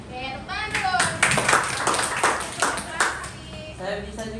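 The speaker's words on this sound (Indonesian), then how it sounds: "Oke, tepuk tangan dulu." A class of schoolchildren clapping their hands together in a classroom, a burst of several seconds of dense, close applause with voices mixed in around it.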